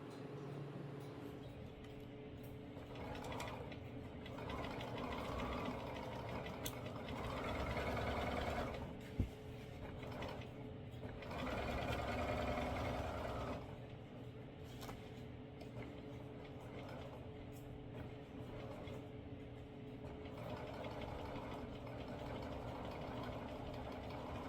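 A sewing machine stitches a jeans facing in long runs of steady mechanical whirring with a low motor hum, pausing briefly between bursts, close and moderately quiet with no speech.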